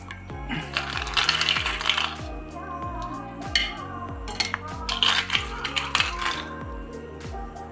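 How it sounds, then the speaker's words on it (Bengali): Pieces of crushed ice drop one after another into a blender jar for cold coffee, each landing as a sharp clink with a ringing tail in an irregular, close sequence. "কয়েক টুকরো বরফের কুচি"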